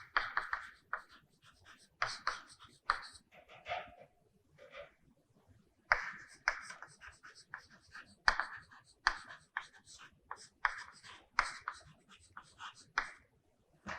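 Chalk or marker strokes on a lecture board during a probability class, a steady run of short scratchy taps and squeaks with brief pauses, close and fairly quiet, with no talking.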